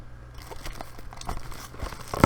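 A plastic bag crinkles and rustles up close during the unboxing of a Taurus G3C 9mm pistol, irregular crackling handling noises building to a louder crunch at the end.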